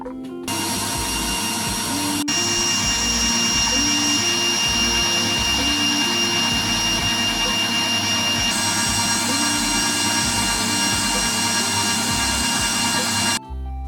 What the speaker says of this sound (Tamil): நான் 300 மில்லி லிட்டர் ஃப்ரெஷ் க்ரீம் எடுத்துருக்கிறேன். இதை இப்போ அடித்து வைப்பேன்.